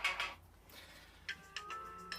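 Apple's Seaside ringtone plays from a phone, with soft plucked and chiming tones sounding in a few spaced, gentle bursts, fairly quiet and heard alone.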